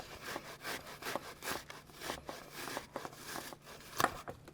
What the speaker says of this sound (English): we're going to continue going here with grating our onion